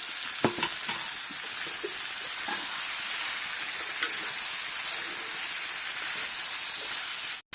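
Potatoes fry in a pan with a steady loud sizzle and hiss, broken by a few sharp scrapes and knocks of stirring.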